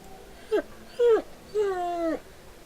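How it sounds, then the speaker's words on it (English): A dog whines in the video game Pillars of Eternity, giving three separate rising-and-falling whimpers that grow longer, the last one drawn out, close and clear against a quiet background. "The hound whines softly again, head tilting."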